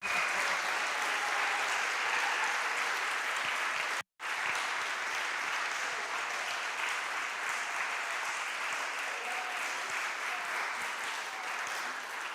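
A church congregation applauds volunteers with steady, dense clapping that fills the space, broken only by a brief cut before carrying on strong to the end.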